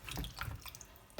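Tomatoes being rinsed one by one in a bowl of water in a home kitchen, with soft splashing and trickling throughout and a louder splash at the very end, close and fairly faint.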